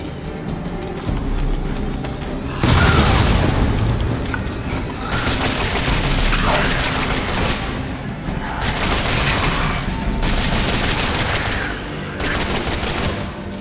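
Grenade launcher blasts in Resident Evil 7's lab area come as a run of heavy, loud explosive bursts, one after another with short gaps, in rough repeated waves and with no voices over them.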